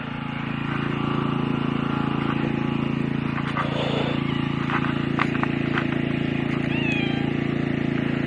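A cat meows a few times inside an off-grid cabin in Alaska, its cries faint and partly buried under a steady low engine or generator hum, with brief clatter.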